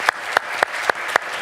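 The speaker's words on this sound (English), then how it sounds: "Round of applause for Kodan." At a Sunday church service, five sharp, evenly spaced claps ring out in a slow, steady rhythm, each one distinct against a quiet background.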